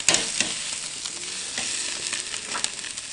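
A Porterhouse steak sizzles loudly on a hot, well-used grill, a dense continuous hiss with a few crackles and pops up close, with no talking.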